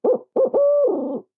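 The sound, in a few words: hunter imitating owl hooting to locate turkeys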